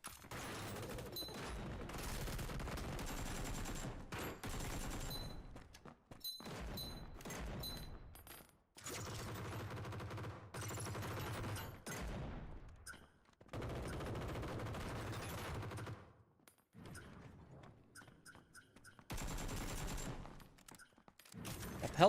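Gunfire in the video game Demo Demolition: long, dense stretches of rapid automatic shooting broken by short silent gaps, fairly steady in loudness, with a faint voice in places.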